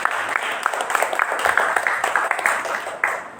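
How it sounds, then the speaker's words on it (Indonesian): A school gathering applauds a teacher with a short burst of crowd clapping, fairly close and dense, tapering off near the end. "Tepuk tangan untuk Pak Latif."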